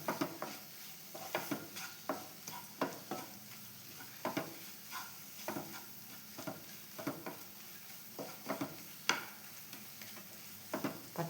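Masala being sautéed in a pan before boiled chickpeas go in: a low continuous sizzle broken by regular scraping strokes of a spoon against the pan, roughly every half second to second, close and quiet.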